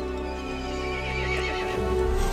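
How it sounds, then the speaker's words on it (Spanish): An iron horse in the horror game Village neighs loudly in a long, shrill whinny over a dense, droning music bed with heavy low rumble, hooves faintly clopping beneath. "El caballo se enfureció y llamó a las otras criaturas."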